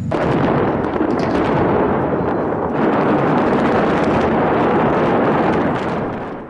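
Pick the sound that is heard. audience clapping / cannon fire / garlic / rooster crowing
cannon fire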